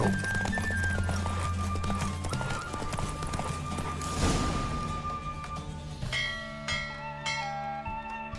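Galloping horse hooves thud in a steady rhythm over a sustained musical background in The Witcher 3: Wild Hunt, with bell-like tones joining toward the end.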